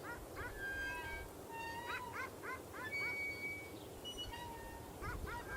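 Dogs bark in short, high yelping bursts in the game Pieces of Me, repeating at a moderate distance over a constant rumbling background noise.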